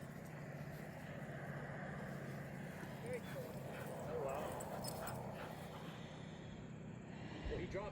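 Dogs at a farm stop on a fall trip play and whimper, with faint yips and scuffling heard under nearby people chatting throughout.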